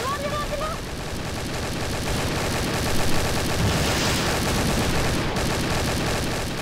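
Rapid gunfire and explosions fill a Garry's Mod DarkRP shootout, with a continuous loud barrage of shots and blasts running from start to finish under excited voices.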